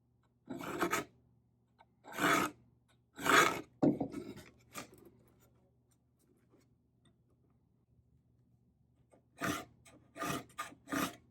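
A steel scribe is drawn along the edge of a combination square to cut permanent lines into metal, giving several short, close raspy scrapes in bursts, with a quiet gap before a quicker run of strokes.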